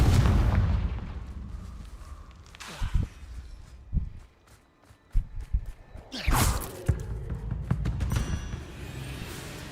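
Confringo blasting-spell explosions go off in Hogwarts Legacy combat, with several loud booming bursts and whooshes separated by brief quieter gaps amid rumbling background noise.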